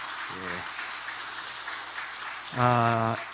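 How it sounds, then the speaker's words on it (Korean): A church congregation claps during a Sunday worship service, with a steady wash of hand claps running underneath, while a voice speaks briefly near the start and again near the end. "박수 한번 해주시죠"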